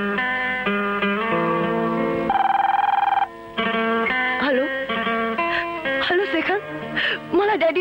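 A telephone rings with a melodic, tonal ringtone in a Nepali film scene. The bright musical tones hold steady and fairly loud throughout, with one sustained pitch partway through.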